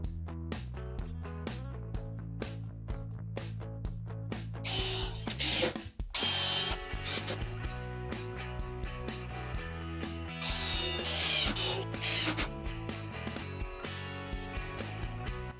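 A power drill drives 3-inch construction screws into wood for a planter trellis, with repeated whirring bursts of the motor rising in pitch, ratcheting clicks and brief pauses between runs, close and clear.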